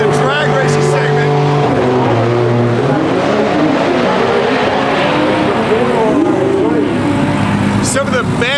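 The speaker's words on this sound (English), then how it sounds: "So now we're in the drag racing segment." Drag racing cars roar down a drag strip, engines screaming loudly and continuously with rising and falling pitch, a crowd and announcer voices mixed underneath.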